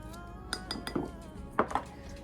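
Rinsing a glass honey jar in a kitchen, with a few sharp clinks and knocks of glass against the sink scattered across a short, quiet moment.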